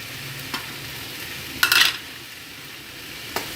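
Torn parotta pieces being stir-fried with masala in a pan for egg kothu parotta, soft scraping and sizzling under a quiet hiss, with a brief louder burst of clattering stirring in the middle and a couple of faint taps.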